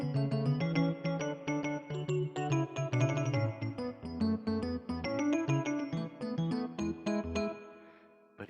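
An electronic keyboard played without the pedal gives a busy run of short, detached staccato notes and chords, close and clear with no sustain between them, stopping abruptly near the end.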